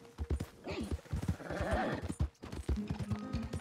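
In the video game Red Dead Redemption 2, hooves clip-clop in a quick rhythm while a horse lets out a rising whinny, then the hoofbeats carry on steadily.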